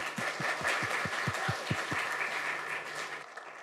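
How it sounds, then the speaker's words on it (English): A crowd of listeners applauds panelists at a queer all-ages comics panel, a dense and steady wash of clapping that holds for several seconds and thins slightly toward the end, with no voices over it. "So one round of applause for all of our panelists."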